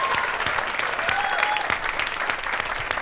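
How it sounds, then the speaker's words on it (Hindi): A television comedy studio audience claps steadily, a bright crowd applause with scattered distinct claps standing out, moderately loud and continuous for a few seconds. "एक ताली हो जाए"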